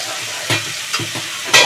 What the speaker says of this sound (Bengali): এখন এই মাংসটাকে আমি ভালো করে কষতে থাকবো আর ঢাকা দিতে থাকবো